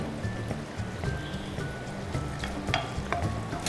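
Dried red chilies sizzling in oil in a pan, a close, continuous crackling fry with a few sharp pops and light stirring scrapes.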